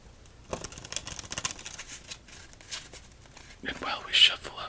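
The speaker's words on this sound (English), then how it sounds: "while we shuffle up our deck" A deck of playing cards is shuffled in a quiet room, giving a run of soft, close riffling and crisp flicking rustles with brief pauses and a louder burst near the end.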